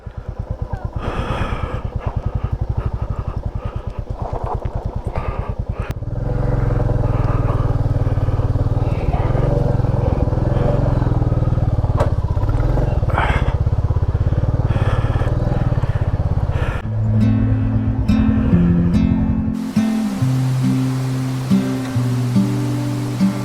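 A motorcycle engine runs steadily up close near Sittong and Mangpoo, its low rumble continuous throughout, shifting into a rising, revving tone near the end.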